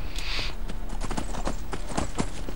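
A horse's hooves clip-clop in a quick, even rhythm in the Skyrim video game, close and clear, with no voices over it.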